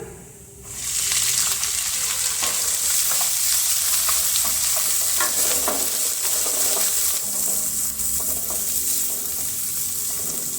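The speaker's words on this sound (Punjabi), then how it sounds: "ਹੁਣ ਆਪਾਂ ਪਾ ਦਾਂਗੇ ਪਿਆਜ਼" Chopped onions fry in hot oil for a ridge gourd (tinda) curry, a steady close sizzle with scraping stir strokes and a brief tap-water trickle, no talking.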